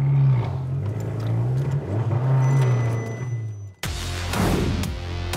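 Abarth 595 Competizione with a Bombardone exhaust, engine revving in rising and falling surges close by before an abrupt cut to louder, brighter engine noise.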